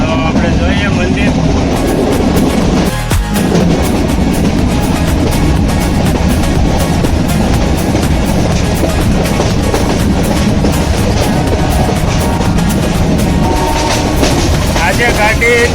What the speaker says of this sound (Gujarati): જબરજસ્ત ટ્રેન હલે છે